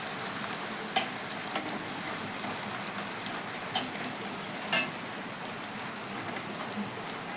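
Garlic and ginger fry with onions in hot oil, a constant crackling sizzle broken by occasional clinks and scrapes of a spoon stirring the pan, with no one talking.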